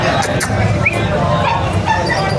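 Dogs bark and yip among a busy crowd at the Grotto pet market, the barks sharp but somewhat distant and mixed into constant babble and background noise.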